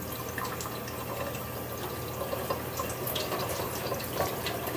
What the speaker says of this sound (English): just use water to kind of strain them out like that